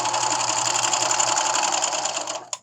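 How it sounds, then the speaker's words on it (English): A serger hums fast and steady, close up, as it sews along the edge of a zipper pouch and runs off the end, then stops with a couple of sharp clicks. "When I come to the end, I'm just going to sew off the edge."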